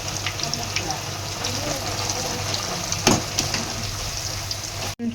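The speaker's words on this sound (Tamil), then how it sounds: "சிப்ஸ் போட்ட உடனே நல்லா கொதிக்கும்" Sliced chips dropped into hot oil for deep frying give a steady broadband crackle and bubbling, with a brief sharper splash near the middle and a short cut near the end.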